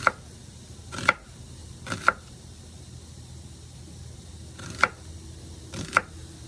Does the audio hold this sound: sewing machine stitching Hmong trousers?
no